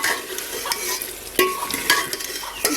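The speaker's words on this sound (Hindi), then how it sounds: "अब हम इसको अच्छी तरह से भूनेंगे ताकि हमारे ये जो कीमे में मिक्स हो जाए" Potatoes and green chilies fry with minced chicken in a pan, a close steady sizzle broken by repeated scraping stir strokes, without talk.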